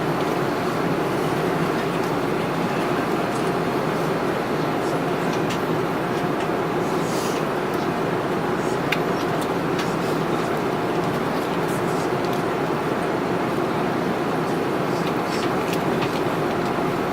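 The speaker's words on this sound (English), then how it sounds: "So we are coming in for landing." Cabin of an Airbus A330-300 airliner descending to land on a Delta flight from Rio de Janeiro to Atlanta, a steady broadband roar with a rattling, rumbling texture and faint occasional clicks, continuous throughout.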